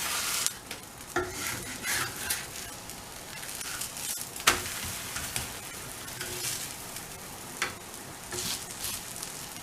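Cucumber paratha roasting in oil on a hot pan over high heat, a steady close sizzle and crackle with occasional soft scrapes and taps, no voices.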